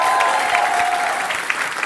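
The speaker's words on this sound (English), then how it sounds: "We'd like to give a big round of applause to Carl Chandler and the European Beer Cafe for having us." Live comedy podcast audience at a beer cafe gives a loud, dense round of applause with some crowd noise, close and continuous from start to finish.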